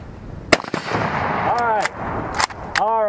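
Sharp, loud Mosin rifle shots crack out in a quick series of about five, each with a booming concussive blast and echoing ring at an outdoor range, with faint talk between them.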